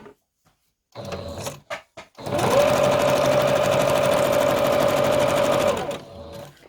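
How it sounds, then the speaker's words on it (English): A sewing machine runs a straight stitch in lighter thread on a fabric collage, starting with a few short bursts and then settling into a steady, close, continuous whir for several seconds before stopping. "And a little bit of straight stitch in the lighter color on this one."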